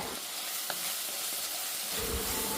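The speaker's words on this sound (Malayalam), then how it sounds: "ചതച്ച് വെച്ചിട്ടുള്ള ഇഞ്ചിയും വെളുത്തുള്ളിയും ചേർത്തതിന് ശേഷം നമുക്ക് നന്നായിട്ടൊന്നത് സോട്ട് ചെയ്തെടുക്കാം" Crushed ginger, garlic and tomato sautéing in oil for a Kerala-style prawn curry, giving a steady loud sizzle with a few soft stirring scrapes, close and without talk.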